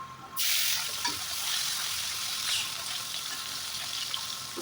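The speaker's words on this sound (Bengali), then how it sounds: "এবার এগুলোকে ওই তেলের মধ্যে ভেজে নেবো" Small fish coated in salt, turmeric and green chilli paste frying in hot oil, a loud, steady crackling sizzle that starts abruptly and carries on close by without any talking.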